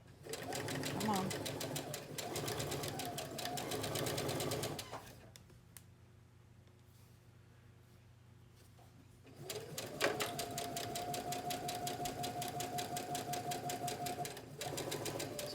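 A sewing machine stitching a quarter-inch seam while sewing a godet runs in close, rapid mechanical bursts, pausing for several seconds before starting again, with a voice talking over it.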